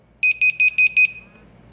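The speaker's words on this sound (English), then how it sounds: "So you'll notice once I set the alarm" A BIBENE WiFi home security system alarm sounds five sharp, evenly spaced electronic beeps in quick succession, loud and near, then falls silent.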